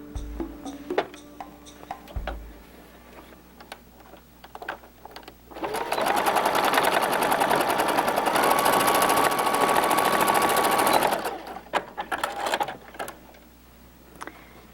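Sewing machine stitching the bottom seam of a fabric bag, a fast even mechanical whir running for about five seconds in the middle, with scattered clicks and handling noises before and after.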